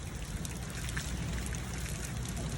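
Heavy rain pours during a windy thunderstorm, a constant dense hiss and rumble with no breaks, loud and close throughout.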